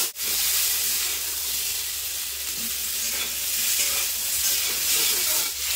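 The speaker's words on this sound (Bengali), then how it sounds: "দিয়ে লাল লাল করে ভেজে নেবো পটলটাও" Pointed gourd pieces seasoned with salt and turmeric fry in hot oil, a loud, steady sizzle and hiss close by with occasional stirring.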